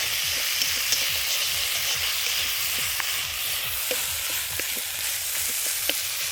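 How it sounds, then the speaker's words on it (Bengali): Ground ginger and coriander-cumin paste sautéing in hot oil for a masoor lentil dal, with a steady close sizzle and frequent light ticks and scrapes of stirring. "ভালো করে মশলাটাকে আমরা কষিয়ে নেব"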